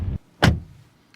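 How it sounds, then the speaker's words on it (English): The door of a BMW iX3 electric SUV shuts with one solid, close thud. A short low rumble comes just before it, and a brief fading resonance follows. "Door closing sound"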